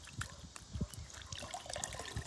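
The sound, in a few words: wringing out a cloth soaked in water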